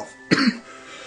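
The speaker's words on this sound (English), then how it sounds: "Cough." A single sharp human cough, loud and close, with a brief raspy throat-clearing tail, standing alone against a quiet background.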